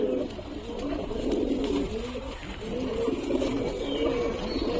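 Pigeons coo steadily in a low, throaty murmur, several birds overlapping close by with no pauses.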